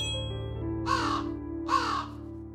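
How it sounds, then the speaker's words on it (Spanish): A crow gives two harsh, separate caws, clear and fairly close, over a faint low background hum with no talking. "Con sus ojos brillantes, sus plumas negras y su estridente graznido, encajan a la perfección en la noche de los horrores."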